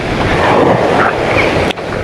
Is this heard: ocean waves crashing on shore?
yes